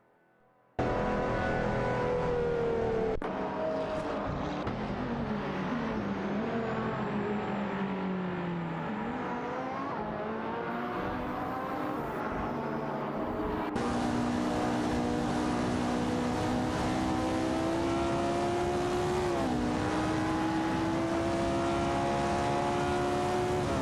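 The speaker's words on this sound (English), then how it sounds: "Both cars are showing impressive acceleration down the straight." Race cars in an AI racing video game accelerate down a straight, their engines rising in pitch through several gear changes as one sustained, loud whine with no talk.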